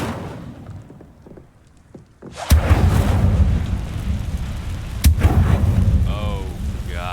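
Incendio fire spell cast in Hogwarts Legacy: after a quieter stretch, a sudden sharp burst erupts into a loud, sustained roaring rush, with a second abrupt burst a few seconds later.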